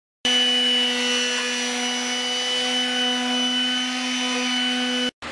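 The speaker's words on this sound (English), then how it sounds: "this little palm vibratory sander is my weapon of choice here to get this lacquer" A small palm vibratory sander runs steadily against the lacquered wooden lid of a cigar box, a loud, even high-pitched buzz heard up close that cuts off abruptly near the end.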